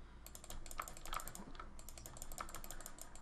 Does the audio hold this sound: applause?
no